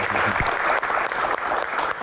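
Audience applause at an Indonesian Q&A event, steady dense clapping from a crowd lasting throughout, fairly loud with no talk over it.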